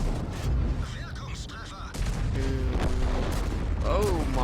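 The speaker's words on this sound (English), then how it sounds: "That was a lot of gunfire." Heavy gunfire from a livestreamed shooter game, a dense run of booming shots and blasts layered under constant background noise, with some talk mixed in.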